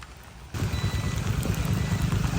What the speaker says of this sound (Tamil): மழை பொட்டுதா